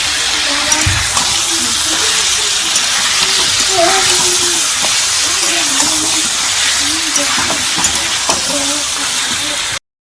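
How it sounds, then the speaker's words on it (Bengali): Water going into a curry in a cooking pan, a loud, close, continuous sizzling hiss with bubbling and stirring throughout, and a voice faintly under it. "গোল মরিচের গুঁড়োটা দিয়ে দেখি এবারে নাড়াচাড়া করে জল দিয়ে দেবে"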